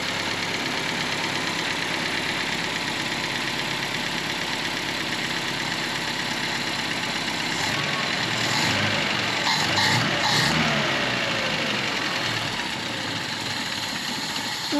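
A 1971 Datsun 521 pickup engine idles roughly and unevenly, a steady mid-pitched running drone with a few brief louder catches near the middle, heard close and alone.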